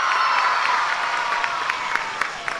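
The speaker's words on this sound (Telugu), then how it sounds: "గట్టిగా చప్పట్లు కొట్టి అభినందించండి." An audience at a school event claps to congratulate a student, a dense, even patter of many hands that holds steady for a few seconds before thinning slightly toward the end.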